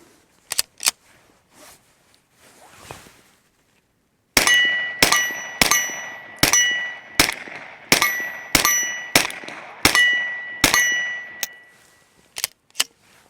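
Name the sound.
suppressed shots from Hellcat Pro pistol, 124 grain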